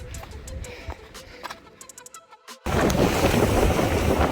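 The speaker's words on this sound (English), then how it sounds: "It is so windy out here." Scattered clicks and rattles give way to a sudden, loud, sustained roar of strong wind buffeting the microphone outdoors.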